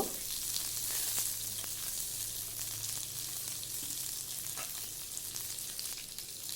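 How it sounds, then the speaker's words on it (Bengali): Vegetables stirred and fried in oil for sabudana khichdi give a fairly quiet, continuous hiss with scattered small pops and occasional utensil scrapes, heard alone throughout. "সবজিগুলোকে একটু তেলের মধ্যে নাড়াচাড়া করে নেব"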